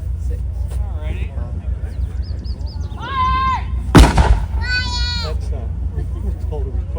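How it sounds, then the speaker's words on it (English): A recoilless rifle fires a single loud, booming shot during a tank weekend demonstration at the Canadian Tank Museum in Oshawa, with a low engine rumble underneath and animal-like calls around the blast. "That's called a recoilless rifle."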